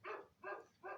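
A dog barks outside, three evenly spaced barks about 0.4 seconds apart at moderate loudness, each short and sharp with no talking over them.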